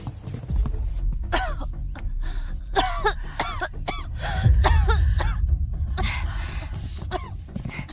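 A young woman in a period palace setting coughs and clears her throat in a series of rough, close bursts spaced over several seconds.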